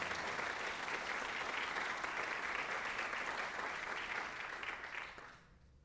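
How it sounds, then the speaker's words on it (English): An audience applauds an athlete at a high school spring signing day, with steady, dense clapping filling the room before it fades out near the end. "let's give a round of applause for Abby as she signs for Alfred University"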